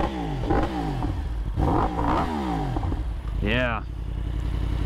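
A Yamaha R1 sport bike engine revs up and down in close, loud bursts, with rising and falling pitch sweeps, while a voice talks over it.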